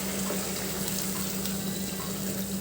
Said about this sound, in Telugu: Hot water వేసినానండి.